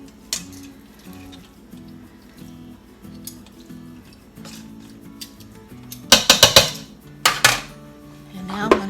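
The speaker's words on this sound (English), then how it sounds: "Now I'm going to put my trivet in there, and I'm going to put my tuna loin back in" A metal trivet and a pork loin are set into an Instant Pot, giving several sharp clanks and knocks near the end, over a low steady hum from the kitchen.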